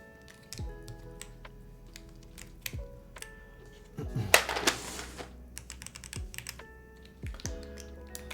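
Keys typed on a partly built mechanical keyboard before all the keycaps are fitted, giving sparse clacks and taps with a denser burst of clicking midway, close up, with faint background noise and no talking.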